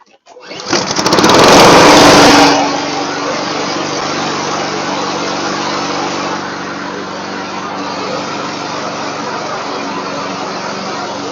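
A Honda self-propelled lawn mower with a starting fault is pulled into life: a brief cough, a loud roaring surge for about two seconds, then a steady droning run that holds at a lower level.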